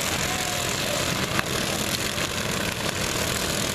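Riding lawn mower engines drone steadily at a demolition derby in Fisher, Illinois, a dense continuous roar of several small motors with a faint knock partway through.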